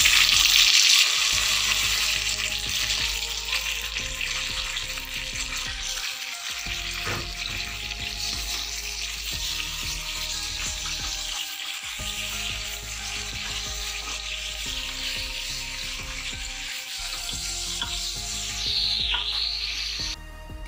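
Half a kilo of washed meat hisses and sizzles as it goes into a pot of browned onions and a little ghee, a steady loud fry with occasional stirring clatter and bright spitting, no talking.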